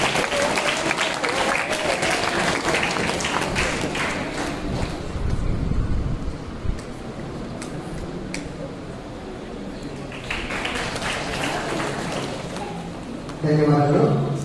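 Audience applause at a Kannada school function for tenth-grade students from a free coaching centre, broadband clapping filling the room during a bouquet presentation, fading midway and swelling again near the end.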